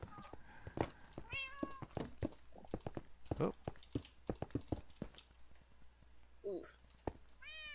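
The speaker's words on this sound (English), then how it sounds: "Here, kitty kitties, come here." Cat meowing in the Minecraft video game, several short mews spread across the clip among block-placing taps, while a player talks and murmurs over them.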